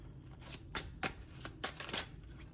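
Tarot cards being shuffled by hand, a quick run of crisp riffling bursts and soft slaps, close and fairly quiet, with no talking.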